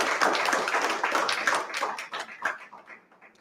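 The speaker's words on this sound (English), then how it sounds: "give the Soulardarity staff team, first of all, a really big round of applause" Audience at a community organization's annual meeting claps for its staff team, a lively round of applause that thins out and tapers to a few scattered claps by the end.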